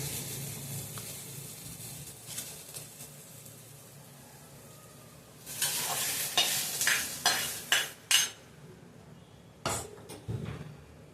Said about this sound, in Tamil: தக்காளி வதக்கிக்கிறோம்.